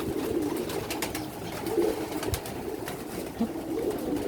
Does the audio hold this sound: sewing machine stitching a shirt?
no